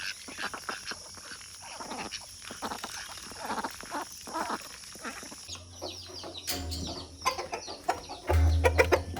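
Chickens cluck in a village yard in the morning, a busy, uneven chatter of close birds with other farmyard noise and a few louder low thumps toward the end.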